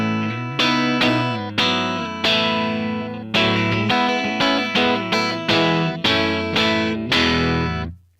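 A clean electric guitar played through a Laney L5-Studio amp's clean channel strikes a series of ringing chords, each left to sustain, ending with a final chord that fades out.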